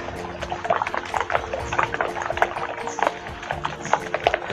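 A spoon stirs a vegetable and egg mixture with onion in a bowl, a run of wet, sloshing scrapes repeating in quick irregular strokes, close and fairly loud.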